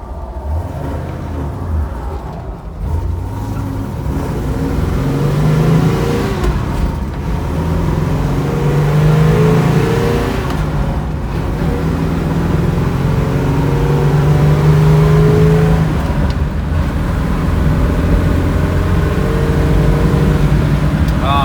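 A 1970 Chevrolet Nova SS pulls away and accelerates, its V8 engine rumble rising and swelling steadily throughout, heard from inside the car without speech.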